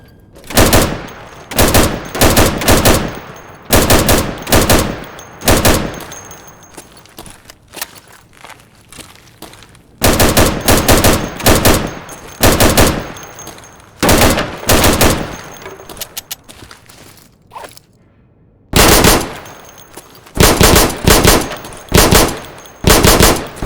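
Video-game gunfire rings out while a warehouse is cleared, loud close bursts of rapid automatic shots separated by short quiet pauses and faint shuffling movement.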